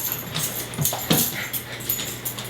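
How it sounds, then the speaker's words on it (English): A dog whimpers and yips in a kitchen where chicken is being prepared for tortilla soup, with short eager whines and soft vocal bursts at close range and little talk. "the cutest dog jumping around back here"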